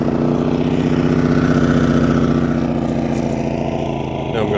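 A Genmax GM2200i inverter generator runs steadily after a cord pull with the choke on and eco mode off, a loud close mid-pitched engine drone holding an even rhythm throughout.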